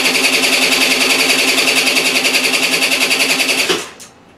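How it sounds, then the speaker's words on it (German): A Piaggio Gilera Runner scooter engine with new fuel injection, given a little throttle during fault-finding, runs loud and close as a steady buzzing drone for several seconds, then cuts off abruptly. "Gib mal ein ganz klein bisschen Gas."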